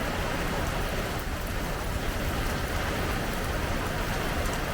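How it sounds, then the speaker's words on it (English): Heavy rain from Hurricane Debby pours down steadily, a dense, unbroken hiss of water hitting surfaces nearby with no thunder and no voices. "Now I hear rain more than wind."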